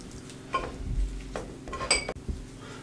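Boiled potatoes are broken up in a bowl, producing a few soft thuds and light clinks of a utensil against the dish, close and quiet.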